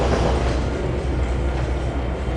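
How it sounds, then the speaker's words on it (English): A long grain train rolls past a service yard in the Trainz 2022 railway simulator, a steady loud rumble of wagons with faint rhythmic wheel clatter, continuous and unbroken. "there's the last part of the grain train clearing the service yard way over to the left"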